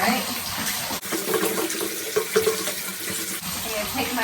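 Water runs steadily from a tap as a squeezed bottle is pushed down and refills, bubbling and gurgling under the stream at close range, the flow briefly breaking once.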